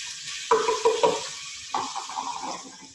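Onions dropped into warm olive oil in a pan for a mushroom and barley risotto, with a loud burst of sizzling at the start, a second surge, and a steady crackle between close stirring clatters.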